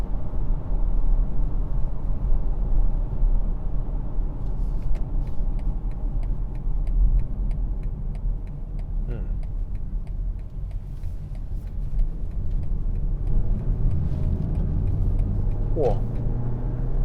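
A 2021 BMW X3 xDrive30i M-Sport with all-wheel drive accelerates out of a corner, its engine and road rumble droning steadily inside the cabin while someone talks over it.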